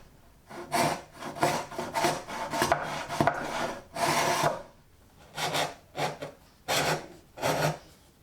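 A rabbet plane pushed through plywood, a series of close, loud rasping strokes, a few quick ones run together and then several separate passes with short pauses between them.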